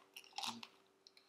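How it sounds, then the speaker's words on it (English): Someone chews a crusty, cheesy beer flatbread close to the microphone, giving a few crisp, crackly crunching bites with one louder burst in the middle and quieter crackles afterward. "It's got a serious crusty crunch on it."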